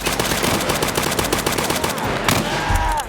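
Rapid automatic gunfire in the Escape From Tarkov shooter game rattles in a fast, even burst that runs almost continuously for three seconds, loud and close, with a brief shift near the end.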